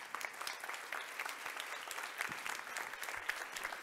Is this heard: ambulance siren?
no